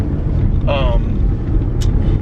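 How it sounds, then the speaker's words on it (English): A big truck passing on a road makes a heavy, continuous low rumble close by, and a brief voice cuts in partway through. "There's a big old truck."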